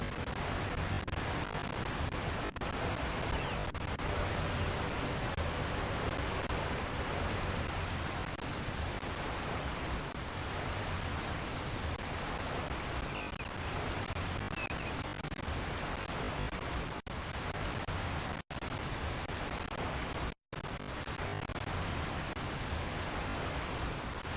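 Steady broadband rushing of a seven-tier waterfall in the video game The Elder Scrolls Oblivion, a constant even wash of falling water that continues unbroken apart from a couple of brief dropouts.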